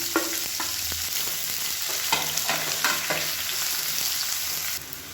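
Chopped large onions and small shallots sauté in a pan for prawn gravy, giving a steady, fairly loud sizzle with scattered stirring clicks and scrapes and no talking.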